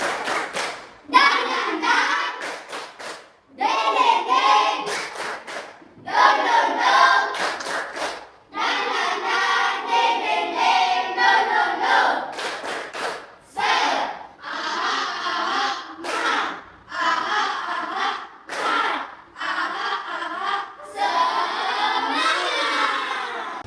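Schoolchildren in a classroom perform a tepuk semangat clapping chant, rhythmic bursts of claps and shouted chanting voices in short repeated phrases, loud and close, with brief pauses between sections.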